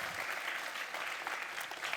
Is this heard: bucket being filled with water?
no